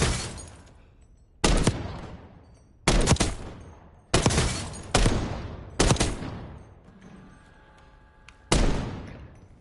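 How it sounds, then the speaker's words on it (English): Seven single gunshots fired from the hip in a Call of Duty battle royale match, each a loud sharp blast with a long decaying tail, spaced irregularly about a second or more apart with no talking. "Hip firing."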